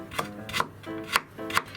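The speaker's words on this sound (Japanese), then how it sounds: "薄切り4枚分を千切りにする感じ" A knife slicing thin ginger slices into fine julienne strips on a cutting board, four crisp separate cuts in an even rhythm, close and clear with no talk.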